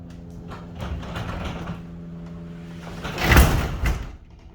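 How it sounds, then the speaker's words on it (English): A heavy garage door on a belt drive opener is lifted by hand, a rolling, rumbling slide with rattles that swells to a louder clatter near the end, close and loud with no talking. "Go ahead and try to lift the door up."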